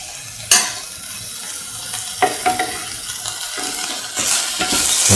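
Onions fried golden brown in a pan, now with salt paste added, sizzle steadily while a utensil stirs and scrapes through them in a few distinct strokes, close and moderately loud with no talking.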